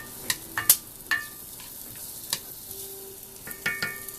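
Onions sautéing in hot grease in a pan give a soft, steady sizzle, broken by scattered sharp clicks and scrapes of a utensil stirring them, close by.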